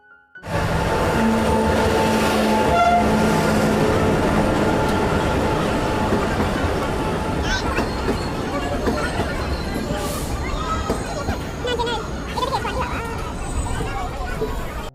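A train rumbles into Bardhaman station on a foggy day amid a crowd's hubbub and chatter, with brief squeals and clatter of carriages rolling along the platform.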